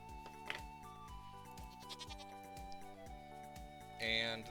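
A goat bleats in the Stardew Valley farming game, a short nasal cry standing out over steady, tuneful game music, with a brighter burst near the end.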